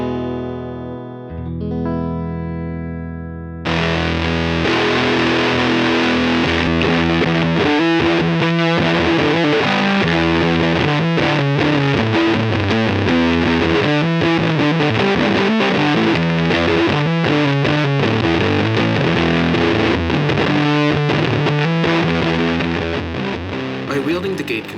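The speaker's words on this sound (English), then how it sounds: "a fuzz pedal, specifically a logic fuzz or a CMOS-style fuzz circuit" Cosmodio Glitch Witch analog auto-modulated logic fuzz pedal on a guitar, a massive, loud, heavily gated glitchy fuzz with stuttering choppy texture, preceded by a brief clean tone, sustained throughout without talk.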